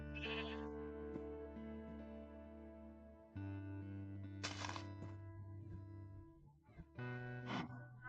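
Minecraft sheep bleat repeatedly in wavering, nasal calls that overlap with steady tonal game sounds. Several distinct bleats sound up close at moderate volume.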